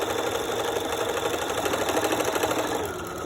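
A sewing machine stitching elastic onto a fabric face mask runs close up, a fast, even stream of rattling stitches that slows slightly at the end.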